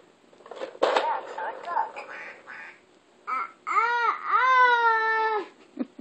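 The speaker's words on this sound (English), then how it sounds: "That's what the duck does?" A See 'N Say toy's recorded quacking plays in a clear, harmonic burst after a stretch of a young child babbling and an adult talking nearby.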